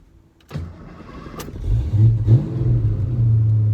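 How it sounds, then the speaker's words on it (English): A 1991 Ford Mustang GT with its original factory 302 V8 cranks briefly and fires up, then settles into a loud, deep, rumbling idle with a couple of throttle blips, close by and with no talk. "So let's go ahead and start her up."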